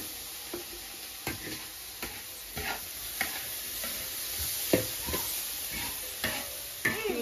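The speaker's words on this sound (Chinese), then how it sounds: "玉米炒肉末，用柴火炒，柴火炒菜是最香的。" Minced pork and corn stir-fried in a wok over a wood fire in an old village kitchen, with a steady sizzle under repeated sharp scraping and knocking strokes of the spatula, close and moderately quiet.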